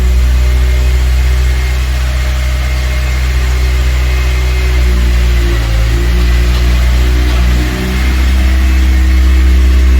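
Honda Civic Type R track car with a new exhaust idling on a cold start, recorded very close: a loud, steady low drone with a couple of slight dips in pitch, no talking.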